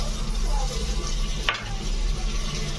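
Garlic paste dropped into golden-brown onions frying in a pan for rajma masala curry, a steady close sizzle with one brief sharp hiss in the middle.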